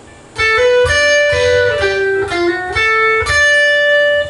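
Distorted electric guitar plays a short lick of sustained notes joined by smooth hammer-ons, loud and close, with no voices.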